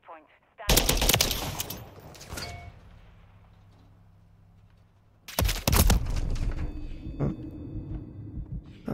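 SMG bursts in Call of Duty Modern Warfare 3 multiplayer, two loud clusters of rapid fire separated by a quieter lull of game ambience.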